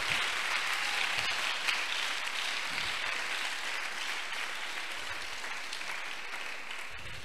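A church congregation at an evening worship service applauding, a sustained wash of many hands clapping at moderate distance, steady for several seconds before fading slightly, with no voices over it.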